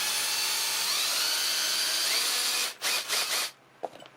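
A power drill whirs steadily as it bores a hole at the end of a crack in broken plastic, then cuts off in a few short bursts before falling quiet.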